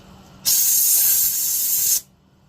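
Compressed air blasting through a carb-cleaned wheel bearing, a loud close hiss that starts abruptly, holds steady for about a second and a half, then cuts off sharply, with no voices.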